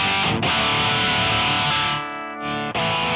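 Heavily distorted electric guitar through amp distortion without a Tube Screamer pedal, a sustained thick chord ringing out with brief dips as notes are re-struck.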